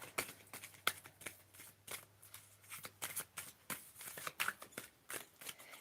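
A brand-new, still-sticky deck of playing cards being shuffled up close, a run of sharp riffling bursts and soft card slaps repeating in irregular rhythm, with no voices.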